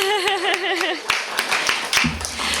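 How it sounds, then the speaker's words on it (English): An audience at an author event begins applauding: after a man's speech, scattered, uneven hand claps pop out in a loose cluster, moderately near, with faint murmuring and a low hum at the end. "let's already applaud"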